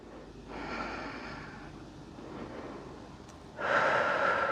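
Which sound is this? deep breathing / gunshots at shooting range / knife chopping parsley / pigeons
deep breathing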